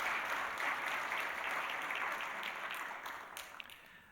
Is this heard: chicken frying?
no